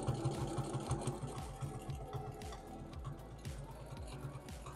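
A sewing machine stitches in fast, even pulses while fabric is moved back and forth for free-motion quilting; a close, steady mechanical rattle running throughout, no talk.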